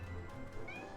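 A single short cat meow from the video game Final Fantasy XIV, faint and brief over a low murmur of game background sound.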